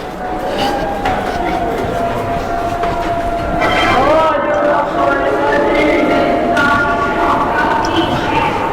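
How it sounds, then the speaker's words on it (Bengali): Busy underground Kolkata Metro station ambience with a rumbling train, rail squeal and crowd chatter throughout, steady and fairly loud. "আন্ডারগ্রাউন্ড দিয়ে আমরা মেট্রোতে যাবো"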